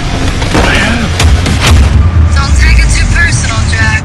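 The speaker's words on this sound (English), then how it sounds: "Why do the bad guys always have automatic weapons?" Loud bursts of automatic weapon fire and heavy booms in an action film trailer, one dense barrage layered with music and a voice speaking over it.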